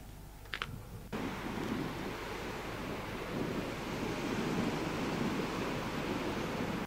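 Waves wash onto a Normandy beach beside a memorial as a continuous broad surf roar, mixed with wind buffeting the microphone, steady and fairly loud after a brief quieter opening with a couple of clicks.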